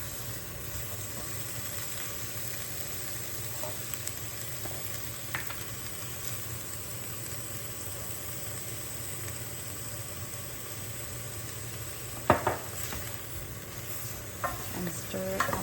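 Beef and curry powder frying in a pan, a quiet steady sizzle and hiss with occasional scrapes and clinks of a utensil stirring, heard up close with no talking.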